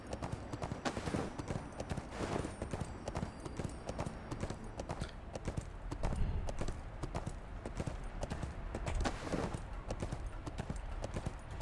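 Horse hooves clip-clopping in the ArcheAge Unchained video game, a rapid steady gallop of close, repeated hoofbeats running throughout with no talk.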